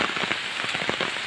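Heavy typhoon rain pours steadily in a farm area, a dense broadband wash with scattered drop impacts throughout, loud and close, with no voices.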